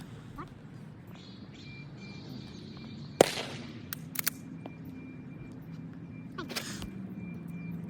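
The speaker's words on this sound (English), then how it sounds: "we're gonna fire 1 from the Versa left to right" A Versa launcher fires a training dummy for retriever practice outdoors, giving one sharp loud crack at mid-clip, followed by a few fainter knocks and thuds against quiet background hum.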